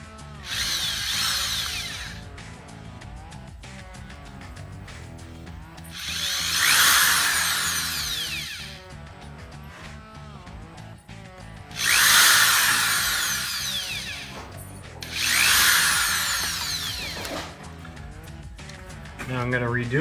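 A power sander works a wooden tomahawk handle, shaping it to fit a grip, in four loud bursts of high grinding separated by quieter gaps where someone talks.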